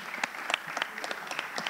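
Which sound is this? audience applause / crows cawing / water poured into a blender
audience applause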